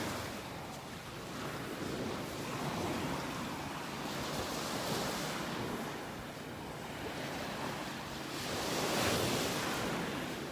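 Ocean waves roll in and break on a shallow beach in North Naples, Florida, a steady wash of surf with swells rising around the middle and end, plus light wind noise.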